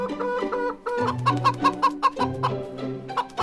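Bresse chickens on a farm outside Vonnas cluck in a busy, overlapping chorus, several birds close by giving repeated short clucks and calls in uneven rhythm.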